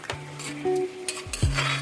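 Duck meat, cooked with ash gourd, is stirred in a pan, with sharp metal scrapes and clinks from the utensil over a soft sizzle, in short irregular strokes.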